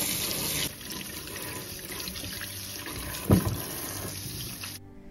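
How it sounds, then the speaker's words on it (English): Carrots are washed and scrubbed under cold water from a kitchen tap, with a steady stream of running water hissing throughout and a brief louder splash or knock partway through. "Wash the carrots under cold running water, scrubbing away dirt as needed."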